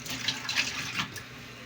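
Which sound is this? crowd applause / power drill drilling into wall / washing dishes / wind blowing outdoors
washing dishes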